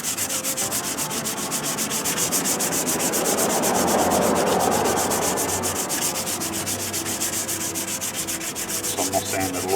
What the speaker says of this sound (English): So I'm going to sand it a little bit with the 220 sandpaper here.